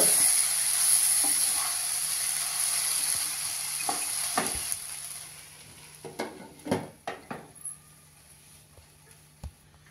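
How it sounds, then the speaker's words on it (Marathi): A pan of sabudana khichdi hisses and sizzles steadily after a splash of water, fading into softer steaming, with a few clanks and scrapes of stirring toward the end. "पाण्याचा थोडा हबका मारून वाफ आणून घेऊया."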